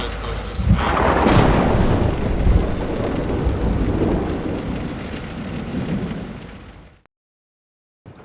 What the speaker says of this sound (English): can you hear that thunder in the background? There's thunder all around.